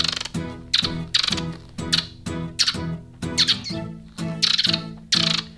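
A man imitates squirrel noises with his mouth and throat, producing a series of rapid, rhythmic squawking chirps in about eight close, loud bursts with short pauses between them.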